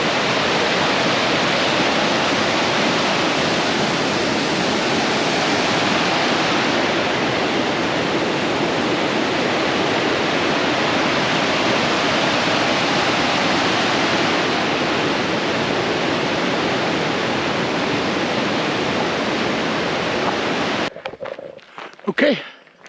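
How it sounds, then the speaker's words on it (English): A small waterfall beside a Utah hiking trail, about a mile in toward White Pine Lake, roars as a loud, steady rush of water close by, ending in a few brief handling bumps. "This is a cool little waterfall we walked up on about a mile in"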